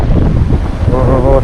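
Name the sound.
strong headwind blowing on microphone while cycling in Himalayas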